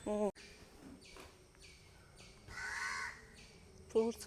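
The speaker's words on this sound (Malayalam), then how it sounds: "കരിയിലക്കിളി" Harsh, raspy calls of a jungle babbler in several short bursts, fairly near, with brief talking at the start and end.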